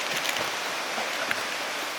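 Steady, dense hiss of continuous heavy rain falling in Baguio City, an even wash of noise with scattered louder drops and no talking.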